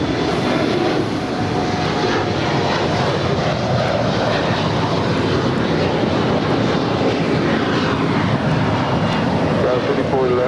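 An Aerounion Airbus A300 roars loudly and steadily down runway 25 right at LAX during a takeoff roll that ends in an aborted takeoff, its engine noise filling the air with wind buffeting.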